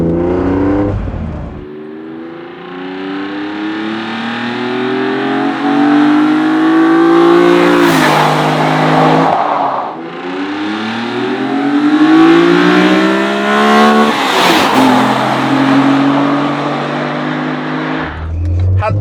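A rare BMW M car is driven with its top down, its engine induction noise swelling loud and near as the revs climb through the gears. Two clear breaks mark the gear shifts, and each is followed by another rising pull.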